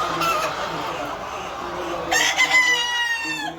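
Chickens at a layer poultry farm cluck in a low repeating murmur, then a rooster crows loudly near the end, close by and clear.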